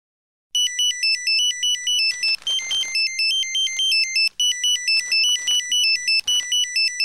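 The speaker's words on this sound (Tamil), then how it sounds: "எங்க போன் அடிக்குது, எடுத்து பேசுங்க." A phone ringtone plays a loud, repeating electronic melody of bright, stepping tones that cycles steadily for several seconds in a domestic scene from a Tamil TV serial, with no voices over it.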